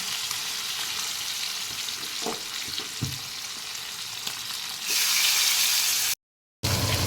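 Pabda fish frying in hot oil, giving a continuous close sizzle with a few sharp pops and spatters, then a louder hissing rush before a brief silence and a return of the noise.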